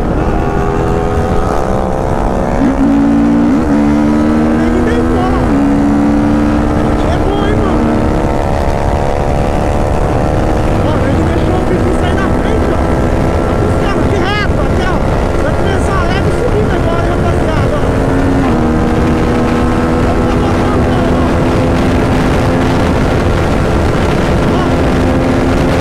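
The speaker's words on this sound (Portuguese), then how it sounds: "a motinha vai dar 200 por hora" A 330cc motorcycle races along a straight at high speed, its engine whining loudly with rising gear pulls over heavy wind rush, sustained and close throughout.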